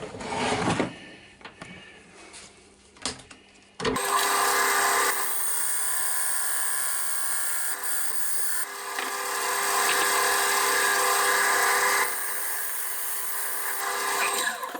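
Padauk wood spinning on a lathe as a parting tool cuts a ridge, a steady loud whine and hiss that starts abruptly after quieter tool scraping and holds continuously near the microphone.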